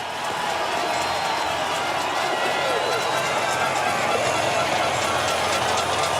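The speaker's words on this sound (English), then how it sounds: "now you can hear the crowd start to build as he enters the Hundschalf" Crowd roaring at an alpine ski race as a racer enters the Hundschopf section, a dense, sustained wall of cheering that holds steady and swells slightly throughout.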